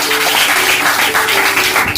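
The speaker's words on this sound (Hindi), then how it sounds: "एक जोरदार तालियां होना चाहिए" Loud, dense applause from a gathered audience at a tea product talk, sustained clapping filling the whole moment close to the microphone.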